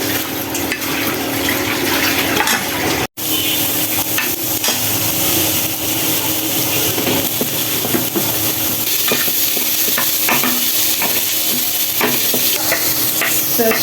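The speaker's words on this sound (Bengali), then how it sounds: "মরিচ ভাজা হচ্ছে" Chilies frying in a pan, with a steady loud sizzle and a spoon scraping and stirring throughout, broken by one brief silent cut near the start.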